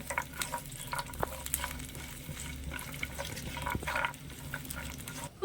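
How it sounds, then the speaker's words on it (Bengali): Cashews and raisins frying in ghee with a soft, low sizzle as a spoon stirs and taps in the pan, close and fairly quiet, with no voices. "অল্প একটু কাজু আর কিশমিশ হালকা করে নেড়ে ছেড়ে একটু ভেজে নেব ঘিয়ের মধ্যে"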